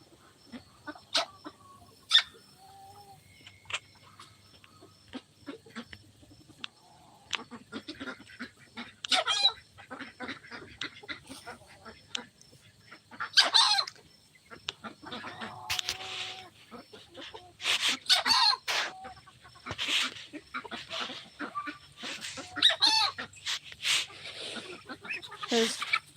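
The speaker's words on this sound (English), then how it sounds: "There's a little bit of chicken drama going on." Young chickens squabbling, with bursts of clucking and squawks rising and falling over nearly half a minute, some calls loud and close, others softer, with occasional voices faintly underneath.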